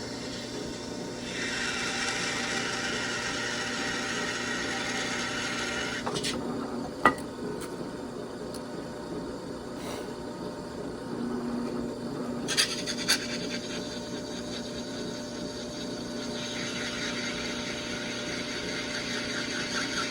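A drill press at its slowest speed grinds and scrapes steadily through an aluminum clutch cover for a 372XP chainsaw, with a few sharp clicks and a constant mechanical hum beneath.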